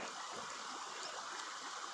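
River water released from a dam rushes by as a steady, broad hiss of flow, continuous and moderately distant, with no voices over it.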